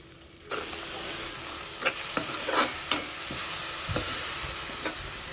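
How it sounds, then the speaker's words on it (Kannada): Tomato puree going into a hot pan with ginger-garlic paste and spices, a sudden onset of steady sizzling after a quiet start, with several stirring scrapes and clinks over the hiss. "ಸೊ ಟೊಮೊಟೊ ಪ್ಯೂರಿನ ಹಾಕ್ತಾ ಇದ್ದೀನಿ"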